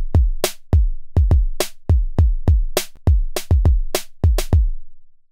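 Two simple kick-and-snare patterns from a Roland XV5080 run together as one groove, heavy kicks and snappy snares falling in a light, steady rhythm, clear and dry with nothing else playing.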